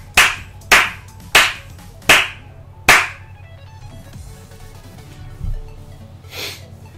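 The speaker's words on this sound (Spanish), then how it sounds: "Un aplauso al Celta." Five sharp, loud hand claps in a slow, even rhythm, close by, followed by quieter shuffling and a soft breath.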